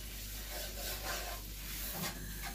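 Flour being roasted and stirred in melted butter in a pan, soft close scraping and rubbing with a faint sizzle, quiet and steady with no talk.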